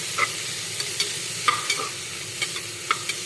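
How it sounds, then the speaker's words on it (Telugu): Chopped onions and tomatoes fry in a pan for a simple green peas curry, a steady close sizzle with light scraping stirs landing about every half second, no voices. "ఆనియన్స్ అండ్ టమాటా వేసుకొని ఇలా ఫ్రై చేసుకోవాలి."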